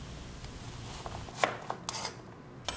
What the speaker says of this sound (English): Now the onion isn't going to roll while you're slicing it